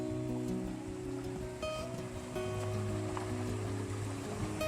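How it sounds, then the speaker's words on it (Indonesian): A river flowing along a historic trail near a village, a continuous soft rush of water with a steady low churn and faint overlapping tonal hums in the background, no talking. "Arah pulang kita ketemu lagi sungai atau kali."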